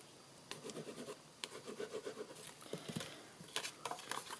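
Adhesive applied to a box while papercrafting, heard as soft close scratching and rubbing strokes in short bursts and taps, fairly quiet and without talk.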